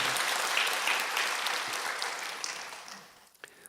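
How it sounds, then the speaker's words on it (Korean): A church congregation claps for the choir, a loud, full burst of applause that holds steady and then thins out, with a few scattered final claps near the end. "다시 한번 하나님께 영광의 박수"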